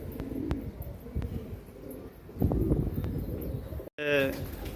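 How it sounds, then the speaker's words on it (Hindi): Domestic pigeons kept for fight training coo in soft, low murmurs, with a few sharper clicks and a louder burst of activity partway through, then a brief gap before more cooing resumes. "दोस्तों ये देख सकते हैं मेरे ये कबूतर हैं"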